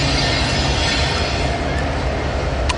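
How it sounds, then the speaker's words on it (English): An ethanol tank train rolls past on a BNSF line near Ashland, Nebraska, a continuous close rumble of wheels and rail noise with faint squeal, steady and loud throughout. "so this is a ethanol train heading south off the Sioux City subdivision"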